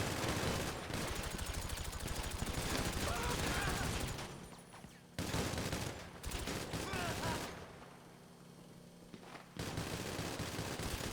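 Sustained bursts of rapid automatic minigun fire in GTA Online roar in long continuous volleys, loud and close, with brief pauses between them.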